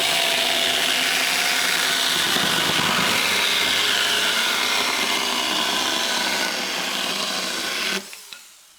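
A Huing mini chainsaw cuts through plywood with a loud, continuous buzzing whine for about eight seconds, then stops abruptly, leaving a couple of faint clicks.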